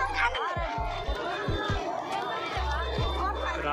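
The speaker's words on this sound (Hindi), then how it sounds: "बहुत ज़्यादा भीड़ है," Dense crowd chatter at the Khonhar fair in Garhwa, a steady babble of many voices with a continuous bustling hum, close and loud, and someone speaking over it.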